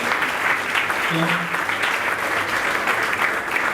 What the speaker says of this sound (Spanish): Le damos un aplauso al Señor en esta noche.